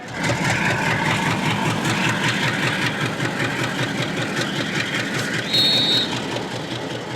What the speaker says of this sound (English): Train is moving.